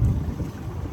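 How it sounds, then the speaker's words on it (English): Steady wind from the north buffets the microphone on a sailboat off the Portuguese coast, a low, continuous rumble and roar, with no voices present. "It's even windy now from here"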